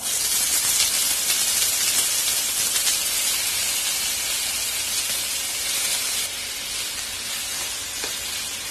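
Sliced raw plantain frying in oil in a pan, a loud continuous hiss and sizzle that steps down a little in level partway through, with no talking.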